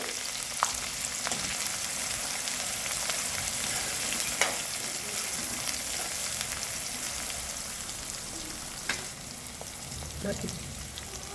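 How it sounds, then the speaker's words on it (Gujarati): Peanuts and mild green chillies sautéing in a pan for farali moraiya khichdi, a steady close sizzle and crackle throughout with a few sharp spatula clicks. "એને થોડીક વાર માટે સિંગદાણાને થોડી વાર માટે સતળાવા દેવાના છે"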